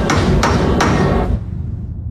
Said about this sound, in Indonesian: Mereka yang masih selamat pun berusaha meminta bantuan dengan cara mengetok palu pada sinyal pemancar.